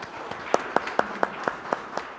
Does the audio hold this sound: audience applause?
yes